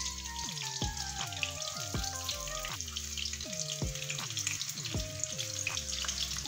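Seekh kebabs fry in hot oil in a pan, a steady close sizzle with crackling pops running throughout, with no voices over it.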